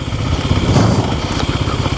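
A 2026 Kawasaki KLX300 dirt bike with Race Tech springs riding through the woods, its engine a steady close buzzing drone with slight throttle pulses.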